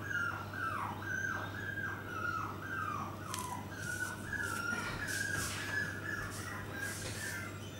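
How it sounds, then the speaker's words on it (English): Puppies in a playpen cry with a series of rhythmic, high-pitched whimpers and whines that later overlap into a denser chorus, moderately close against a steady low hum. "puppies are crying, wanting to come out of their playpen"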